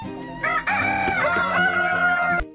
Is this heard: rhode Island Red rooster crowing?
yes